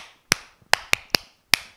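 Children clap during a nursery phonics lesson, five sharp, separate claps in an uneven rhythm, close and crisp with silence between them.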